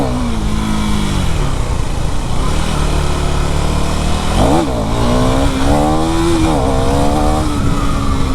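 A KTM Duke 390 motorcycle engine runs in very poor condition, droning loudly and steadily up close, with one sharp rev swell about midway followed by wavering pitch changes as the throttle is blipped.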